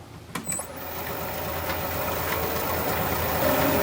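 A wood lathe motor turns a large maple burl bowl, its steady droning hum rising gradually in loudness and pitch as it speeds up, close and continuous after a brief knock at the start.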